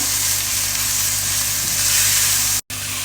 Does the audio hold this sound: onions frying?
yes